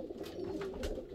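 Pigeons coo softly inside a backyard tin shed holding a mix of spare birds, with low, muffled throaty calls over a faint steady hum and no talking.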